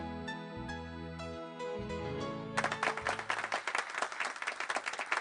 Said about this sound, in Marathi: तुम्ही टाळ्या वाजवताय हे खरं आहे बरं का प्रेक्षक हो